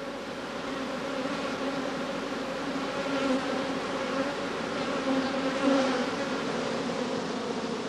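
A defensive honeybee colony buzzes in a dense, steady drone that holds close and loud throughout, swelling slightly now and then with no voices.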